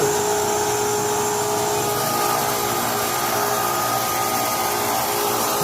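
Gas filling machine refilling a home gas cylinder at a car fuel station in America, a loud steady mechanical whir and hiss that holds unbroken throughout, with no talking.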